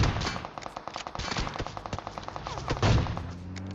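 Automatic-weapon gunfire in the PUBG video game, a rapid spray of evenly spaced shots, loud and close, running for about three seconds before tailing off.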